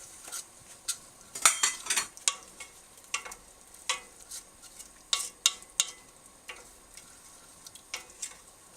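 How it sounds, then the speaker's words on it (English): A spoon scrapes and clinks inside a pot as pumpkin curry with curry powder is stirred, giving irregular sharp knocks and scrapes at close range, with a faint sizzle underneath and no talking. "Mix that all up."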